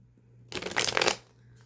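Playing cards shuffled once in a quick riffle of about half a second, close and crisp, set against a quiet background with a low steady hum.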